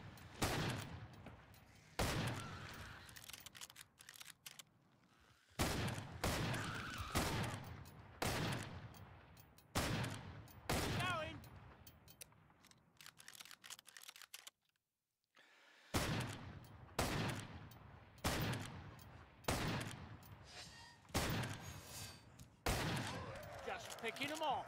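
Gunfire in the video game Killing Floor 2 on the FrostWorld map, repeated sharp bursts of shots in uneven clusters with short pauses and one brief silence, a voice talking over parts of it.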